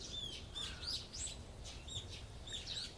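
Morning birdsong in the visual novel game Higurashi, with high chirps and tweets repeating steadily over a soft outdoor ambience, moderately faint and without voices.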